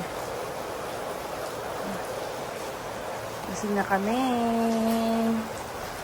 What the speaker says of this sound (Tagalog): Lakas ng ulan, no? Ulan ng ulan.